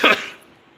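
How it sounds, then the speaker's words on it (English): A single sharp cough with a throat-clearing rasp, close and fairly loud, quickly fading into quiet, from a man in a VR arcade. "I feel like I'm gonna cough."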